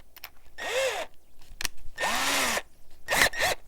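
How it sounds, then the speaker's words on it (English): A power drill fitted with a reaming bit whirs in three separate bursts of about half a second to a second, each with a rising or falling whine, close and fairly loud, with small clicks and handling noises between the runs. "So what you do now is you basically take your drill"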